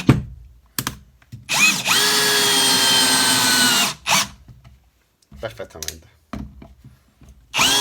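Cordless drill driver spinning with its supplied non-magnetic socket bits, a sustained whirring run of about two seconds between short bursts and clicks of handling, with brief talk in the clip.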